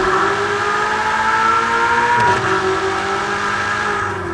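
A Ferrari Portofino engine in the racing game Forza Horizon 4 holds a loud, sustained rev, then dips in pitch mid-way before settling again, driving steadily with no talk over it.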